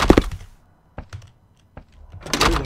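A door closing in a horror video game: two sharp thunks with a short knock between them, near and fairly loud, framed by louder rustling clatter at the start and end.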